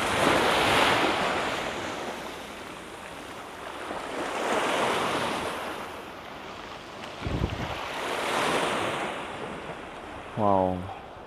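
Ocean waves crash on a Jakarta shore in broad, rolling surges of surf with wind noise on the microphone, loud and close, building and fading in slow swells.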